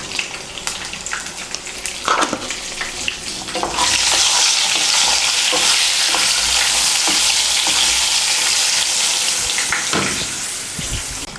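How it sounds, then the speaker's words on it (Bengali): Salted, turmeric-rubbed eggplant fries in oil in a wok. A few clinks and splashes come first, then a loud, continuous sizzling hiss that dominates the rest of the span and eases slightly at the end. "মিশিয়ে নিয়ে বেগুনটাকে ভেজে নেব।"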